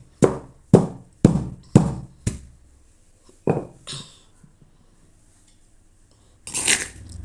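A stone mortar and pestle grinds tomato and dried red chilli chutney with sharp, evenly spaced pounding knocks, five in quick succession, then scattered softer scrapes and one longer grinding rub near the end, close and loud.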